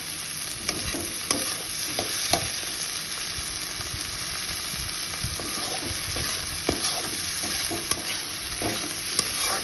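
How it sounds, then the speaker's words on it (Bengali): Vegetables for a curry sizzle steadily in a hot pan while a spatula stirs them, sharp scraping clicks recurring throughout over a constant close frying hiss. "সবজিগুলো ভেজে দেবো।"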